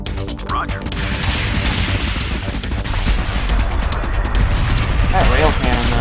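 A rail cannon fires in the video game Convoy amid a dense, loud battle din of continuous blasts and crashes that runs without a break.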